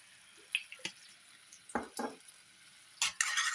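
Tomato sauce stirred into chicken frying in a pan, several separate wet squelching spoon strokes over a faint sizzle, close and intimate, with a longer burst of mixing at the end and no voices.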